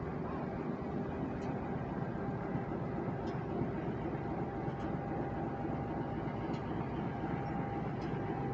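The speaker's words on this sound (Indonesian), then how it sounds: "Di jalur 3 stasiun Purwokerto masuk kereta api Motis Lebaran Tengah dari Jakarta." The Motis Lebaran Tengah train pulls into Purwokerto station with a steady, dense rumble of wheels and engine that stays loud and constant throughout, broken by faint rhythmic clicks of wheels over rail joints.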